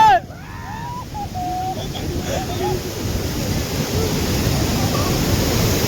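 Water rushes heavily through Balidiha dam, a broad, loud, continuous roar that builds slightly, with a brief voice at the start.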